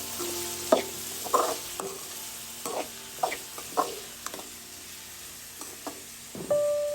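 Chopped shallots, green chili and garlic frying in a pan: a faint, low sizzle broken by repeated clinks and scrapes of a spoon stirring, fairly close.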